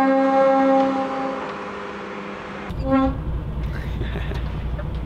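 At a port container terminal, a truck's air horn sounds a long sustained blast and then a shorter toot a moment later, to thank a docker. A low diesel engine rumble continues underneath.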